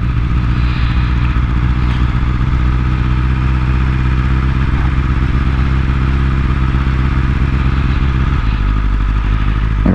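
Full-carbon 2022 BMW S1000RR sport motorcycle being ridden, a loud continuous close engine drone with a steady low rumble and slight shift in pitch near the end, no talking.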